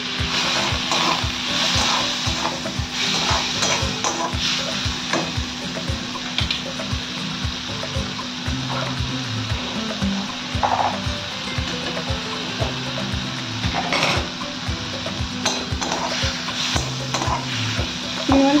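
Shrimp coated with turmeric and salt fry in oil in a wok, a loud, steady sizzle with bursts of spattering and frequent scraping stirs throughout.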